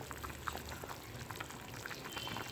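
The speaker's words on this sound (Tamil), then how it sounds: "பார்த்திங்கன்னா குழம்பு நல்லா கொதிச்சிருச்சு" Fish curry (meen kuzhambu) bubbling in a pot, a soft steady simmer with faint popping bubbles, close and continuous with no talking.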